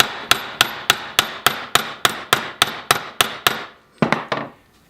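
A hammer strikes a rivet on an AK-47/74 gas piston, landing about a dozen sharp, evenly spaced metallic blows at a quick steady rhythm, then two or three final hits after a short pause, close and loud.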